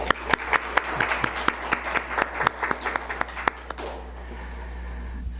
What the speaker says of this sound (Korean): 우리 찬양팀을 위해서 다시 한번 격려의 박수를